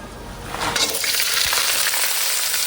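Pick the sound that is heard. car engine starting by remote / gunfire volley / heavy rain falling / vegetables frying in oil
vegetables frying in oil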